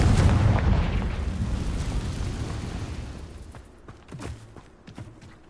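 A Confringo fire spell detonates in Hogwarts Legacy with a heavy rumbling blast that slowly dies away, followed by a few smaller crackling pops and thuds.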